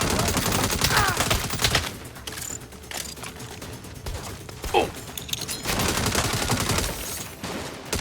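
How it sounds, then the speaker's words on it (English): Enemies in Saints Row (2022) unleash dense bursts of rapid gunfire, loud and continuous at first, easing off in the middle, then resuming in sustained volleys. "they'll take turns firing instead of all shooting at the same time"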